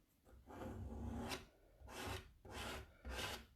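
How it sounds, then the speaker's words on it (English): Paint scraped through a silkscreen stencil with a spatula-like tool, four or five close, rasping strokes in a steady back-and-forth rhythm, quiet and with no talk. "I'm just going to kind of scrape it into the holes on my silk screen"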